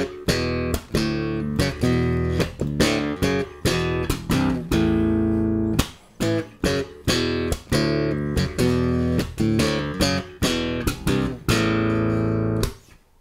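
Riff strummed on bass guitar, rapid rhythmic chord strums and sharp accented hits repeating in a driving pattern, close and loud with no talking over it.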